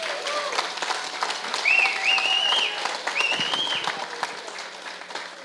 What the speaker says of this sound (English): So I would like to give a round of applause to them.